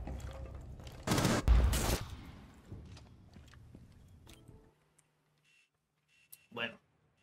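Gunfire in Rainbow Six Siege during a ranked match: a loud, dense burst of rapid shots over about a second, with scattered quieter shots and game clatter after it, then near silence and one short sharp crack at the end.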